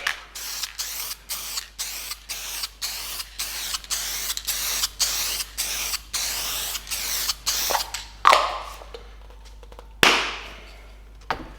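An aerosol can of clear coat sprays in a quick series of short hissing bursts, roughly two per second, close and fairly loud, ending in two longer sprays with pauses between them.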